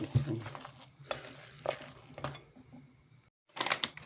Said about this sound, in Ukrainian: Сирочок наш розминаємо і змішуємо з яєчком